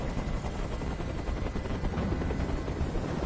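Helicopter in the video game Detroit: Become Human, a dense, steady rotor-and-engine roar filling the whole stretch at constant loudness with no speech.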